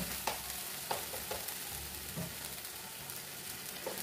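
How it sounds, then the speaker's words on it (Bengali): Masala for a vegetarian chhana dalna being fried with a little water, a continuous soft sizzle broken by occasional scraping stirs and light knocks of the spoon, close and quiet with no voices. "এবার মশলাটাকে কষাবো, এর মধ্যে লবণ দেবো,"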